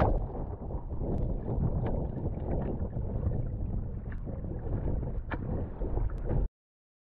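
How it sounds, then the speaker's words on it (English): Strong wind roars across the microphone while sailing on open water near a beach, a dense continuous rush with faint gurgling water underneath, loud and close, then cutting off abruptly near the end. "the wind has picked up quite a bit"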